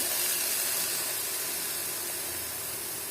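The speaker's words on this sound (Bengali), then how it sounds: "এখন আমি সবজিটা ভোনা করব প্রথমে তিন চারটা পেঁয়াজ নিয়ে নিয়েছি" Three or four onions frying in a pan, a steady, continuous hiss of sizzling that holds evenly throughout, fairly quiet and alone with no voices.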